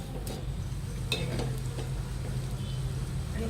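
Besan sev deep-frying in hot oil over medium heat, a steady low bubbling sizzle with a few light clinks, continuous and close throughout.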